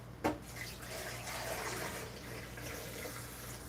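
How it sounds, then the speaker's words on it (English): Room-temperature filtered water pours into a blender holding a whole lemon, a soft steady splashing stream after a brief knock at the start, with no talk. "at least 20 ounces of water to start to break this lemon down"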